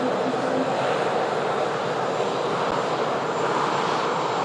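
A Boeing 737 Max airliner touches down at the end of a flight from Copenhagen, loud continuous jet engine roar holding steady throughout, heard from a distance across the airfield.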